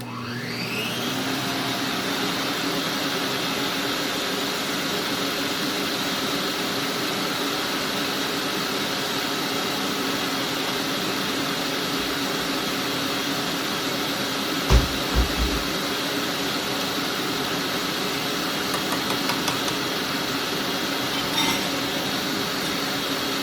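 An electric hand mixer beats chocolate cake batter in a home kitchen, whirring as a steady, loud drone that spins up at the start and runs on without a break, with a few faint knocks of the beaters against the bowl.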